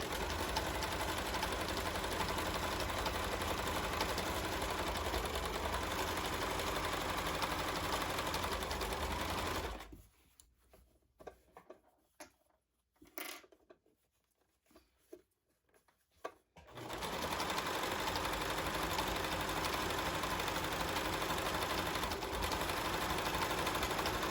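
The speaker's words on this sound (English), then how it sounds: "I'm going to backstitch on the point as well. It is a bit of a longer backstitch" A sewing machine backstitches fabric with a steady, close whirring hum for about ten seconds. It pauses into near quiet with a few faint clicks, then resumes the same continuous run.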